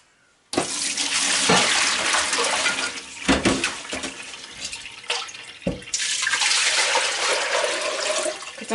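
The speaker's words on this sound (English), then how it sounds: "I'm going to pour this whey out of the pot" Whey left from making sheep's-milk Gouda cheese pours from one pot into another, a loud continuous splashing stream with a few brief breaks and surges as the pot is tipped.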